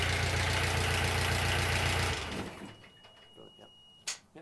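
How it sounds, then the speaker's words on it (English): A narrowboat engine idling with a steady low throb, then cut off with the key so the rumble dies away abruptly, leaving quiet room noise and a few small clicks and knocks. "To stop the engine, just turn the key all the way to the left."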